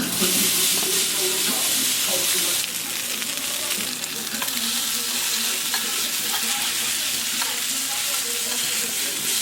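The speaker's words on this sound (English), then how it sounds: "Melt some butter down into another hot pan. Get ready to toss my pasta in it. Hit it with the pesto." Pasta tossed in a hot pan of melted butter and pesto, giving a loud, continuous sizzle and hiss with scraping stir noises throughout.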